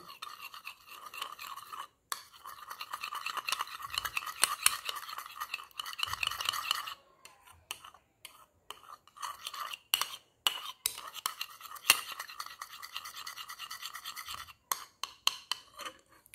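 A turmeric face pack being stirred in a small bowl, a quiet, rapid scraping and clinking that runs in bursts with short pauses, close by and faint, with no talking over it.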